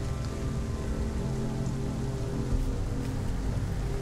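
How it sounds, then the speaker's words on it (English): Steady rain falls in the video game Hellblade: Senua's Sacrifice, a dense, even hiss of drops on surfaces with low rumbling underneath, continuous and fairly loud with no voices. "It's raining."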